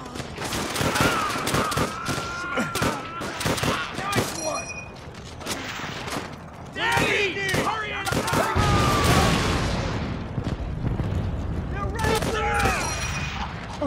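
Video game gunfire from Call of Duty: World at War, a World War II campaign battle: a continuous run of sharp rifle and machine-gun shots with short bursts and distant booms, mixed with shouting voices throughout.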